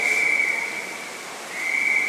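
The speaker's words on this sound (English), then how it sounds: "our whistle will blow for" A steady, shrill whistle sounds for the start of a swimming race heat at a masters long course championship, sustained for about two seconds, loud and clear over faint pool ambience.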